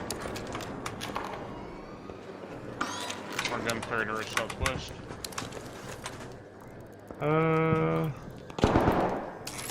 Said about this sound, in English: More gunfire to our southwest.